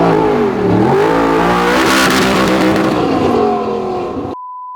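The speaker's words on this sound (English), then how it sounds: "Let's see just how well this Audi R8 goes around the field." An Audi R8 accelerates hard on a timed lap around a grassy field, its engine roaring loud and close with rising and falling revs through gear changes, then cutting off abruptly.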